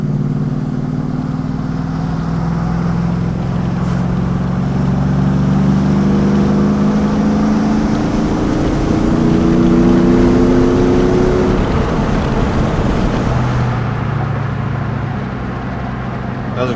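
An old Chevrolet Silverado pickup with a powerful new crate engine accelerates, its engine drone rising steadily in pitch as heard from inside the cab, loud and continuous with road noise beneath.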